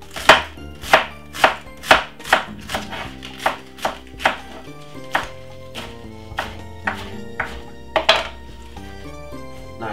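Pork being chopped with a knife on a board, a run of sharp, ringing chops in an even rhythm that slows and thins out toward the end, close and loud, with no voices.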